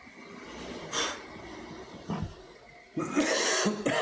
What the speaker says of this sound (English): still got this cough